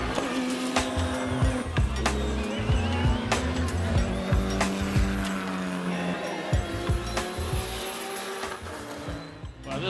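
Toyota Supra race car lapping the Donnybrooke Raceway circuit, its engine roaring loud and close with steady pitch shifts through gear changes and sharp transient clicks, no talk.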